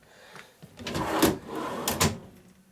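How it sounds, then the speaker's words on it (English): Soft-close kitchen cabinet door swinging shut, a muffled cushioned thump with a brief rustle and a second gentle knock, close by with no talking. "And the door has something too that prevents it from being slammed."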